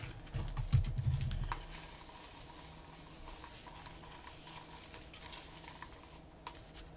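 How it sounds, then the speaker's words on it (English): Coffee sprayed from a spray bottle onto paper to stain it, a soft close hiss of mist after a brief low handling thump, quiet and steady with faint spritz bursts. "I actually do want to spray a little bit more coffee on this one."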